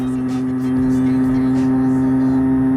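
A restricted Derbi Xtrem moped engine drones loud and close with a steady buzzing tone, pulling hard under load in high gear without any clear rise in pitch.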